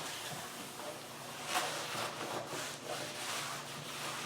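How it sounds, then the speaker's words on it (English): Steady scrubbing and rubbing on an aluminium half door skin for a Land Rover Defender, a continuous close broadband rasp with slight pulsing strokes and no speech. "you can keep rubbing and rubbing it."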